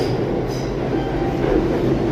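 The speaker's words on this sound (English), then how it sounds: "there's the 1 train" A New York City subway 1 train rumbles loud and continuous at Dyckman Street station, with a steady low roar and faint rail hiss near the platform.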